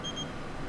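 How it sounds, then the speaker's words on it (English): A phone rings in The Sims 4, a short steady electronic tone pulsing briefly over a dense bed of game background sound. "Oh, wait, I hear a phone call."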